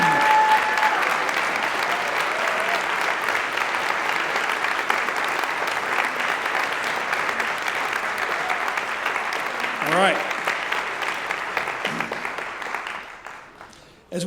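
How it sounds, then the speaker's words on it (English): Sustained applause from a large audience at a graduation convocation honouring graduate students, a steady wash of clapping over many seconds with a few voices near the end. "give them a big round of applause"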